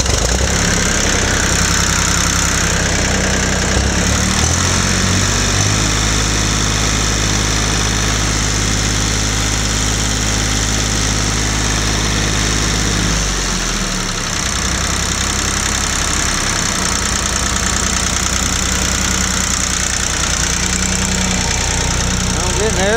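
A Ford 1710 tractor engine idling nearby with a steady, loud, knocking diesel chug that deepens for several seconds midway before settling back, with someone talking over it.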